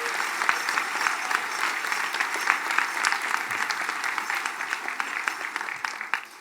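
An audience applauds military veterans at the Mille Lacs Band of Ojibwe State of the Band gathering, with sustained clapping from many hands, steady and moderately loud throughout, tapering slightly at the end.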